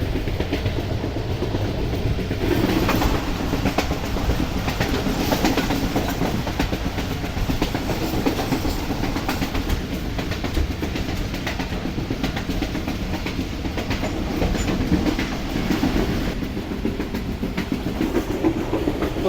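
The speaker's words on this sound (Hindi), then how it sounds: "तकरीबन 10 बजे हमारी ट्रेन अप्रोच बना रही है शेखुपुरा जंक्शन रेलवे स्टेशन पर" The Karakoram Express rolls toward Sheikhupura Junction, its wheels clattering in a steady rhythmic clickety-clack with a continuous rumble of carriages heard close from on board.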